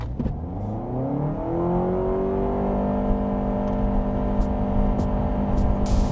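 A 2025 Honda Civic accelerates hard to 60 mph, its engine note climbing steadily in pitch and loudness, close and continuous over road and wind noise, with no talk.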